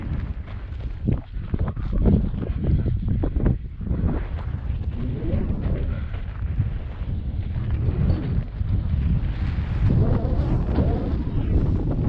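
Strong wind gusting across the open Artesia channel near Brantley Lake, a steady loud rushing roar buffeting the microphone throughout, with no one talking.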